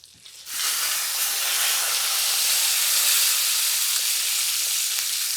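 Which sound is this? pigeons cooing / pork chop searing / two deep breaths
pork chop searing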